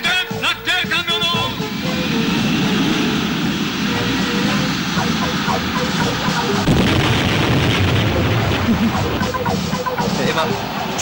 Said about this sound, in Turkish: Eyvah, uçaklar geliyor.